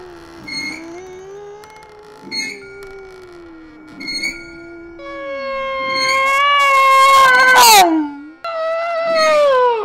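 A horror-radio scream effect rises from an outlet, a loud, drawn-out wailing shriek that swells in pitch and intensity and then breaks into a final piercing cry.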